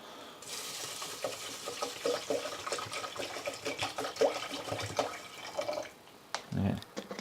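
Water is poured over pre-washed white rice in a rice cooker pot, a faint, uneven splashing and trickling with small knocks and shuffles around it.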